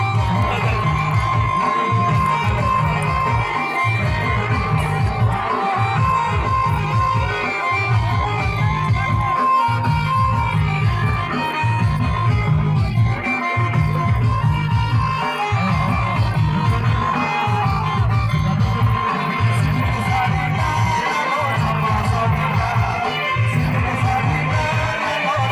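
A packed crowd dances at an outdoor Odia sports festival as loud DJ music pounds through steady, rhythmic bass beats, with crowd noise and shouts mixed in throughout.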